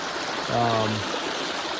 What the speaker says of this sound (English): All right, so I'm back to the waterfall